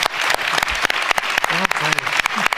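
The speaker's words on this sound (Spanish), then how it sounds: "Un aplauso a Ludwig y a todos sus colaboradores" Dense applause from an audience at a tribute conversation honoring Ludwig Margules fills the room, with irregular claps layered over a steady roar and a few voices talking beneath it.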